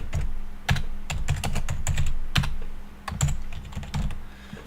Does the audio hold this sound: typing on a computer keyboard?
yes